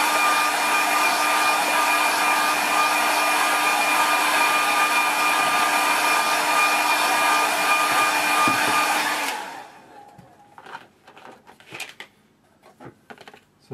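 A hair dryer blows loud and steady while drying paint on a painting, a constant whooshing roar that cuts off after about nine seconds, leaving soft scattered tapping and handling noises.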